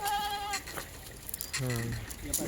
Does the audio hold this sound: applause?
no